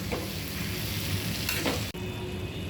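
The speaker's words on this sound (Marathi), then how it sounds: "आता आपण सर्व भाजी ही परतून घेऊया" Drumstick leaves with salt are sautéed in a pan: a loud, steady sizzle with a brief stirring scrape near the end, close up and without voices.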